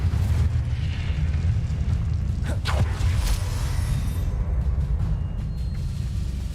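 A fire spell cast in the Hogwarts Legacy video game: a loud, rumbling whoosh of flame over a steady low roar, with a couple of bright crackling bursts partway through.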